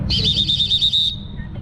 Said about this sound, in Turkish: Hakem düdüğü mü?